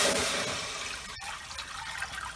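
Water from a measured four cups poured into a saucepan, a steady close splashing gush that tapers off into a quieter trickle.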